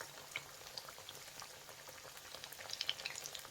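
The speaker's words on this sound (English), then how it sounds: "and then we'll deep fry this" Lentil fritter patties deep frying in hot oil, a steady close crackling sizzle with scattered sharp pops that grow busier toward the end, no voices.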